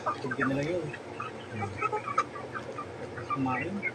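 Chickens cluck softly and intermittently while feeding, a scattered chorus of short calls at moderate distance with low background noise.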